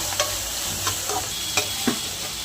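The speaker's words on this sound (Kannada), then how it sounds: "ಸ್ವಲ್ಪ ಆನಿಯನ್ ಫ್ರೈ ಆದಮೇಲೆ ಶುಂಠಿ ಬೆಳ್ಳುಳ್ಳಿ ಪೇಸ್ಟ್ 1 ಸ್ಪೂನ್ ಹಾಕೊಳ್ಳಿ. ಅದು ಚೆನ್ನಾಗಿ ಫ್ರೈ ಮಾಡ್ಕೊಳ್ಳಿ." Onion with a spoonful of ginger garlic paste sizzles steadily in a pan for channa masala, with a spoon scraping and stirring through it in a few soft, regular strokes close by.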